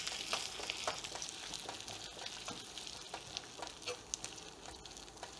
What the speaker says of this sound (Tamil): இந்த தேங்காய் வந்து நல்லா நெய்யில் ஃப்ரை ஆகணும்